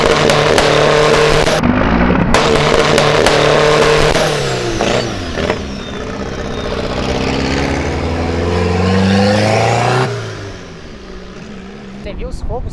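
Volkswagen Brasília with a loud, controversial modified exhaust leaving an event, revving hard with rising and falling engine tones and sharp bursts, while people talk nearby.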